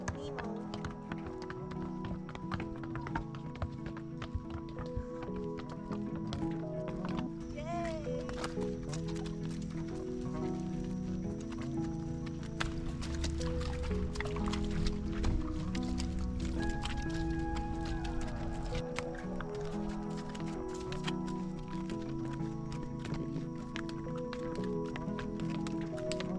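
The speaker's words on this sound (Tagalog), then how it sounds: "Meet my horsey, Nemo." A horse in Baguio walks with hooves clip-clopping in an uneven rhythm, heard up close under a steady bed of tonal music-like sounds.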